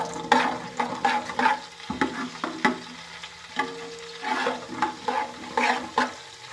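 Fennel seeds, cloves and cardamom crackle in hot ghee over a lowered flame, heard as a run of short sizzling pops and spoon scrapes in an irregular rhythm, close and alone.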